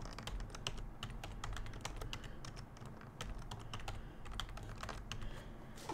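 A password being typed on a computer keyboard while setting up a HikVision IP camera, with quick, steady clicking keystrokes that run close and clear throughout and no speech.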